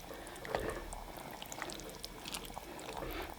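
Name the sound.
stirring a pot of chili with beans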